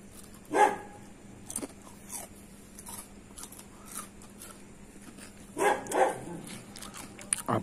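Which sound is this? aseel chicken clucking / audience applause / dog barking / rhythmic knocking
dog barking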